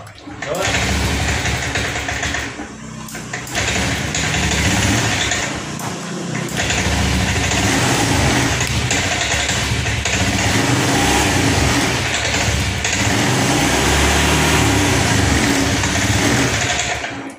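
A motorcycle engine restarted after its fuel tank was drained and the system reset keeps sputtering, giving a rough, uneven revving roar that runs for the whole stretch, with a voice talking over it.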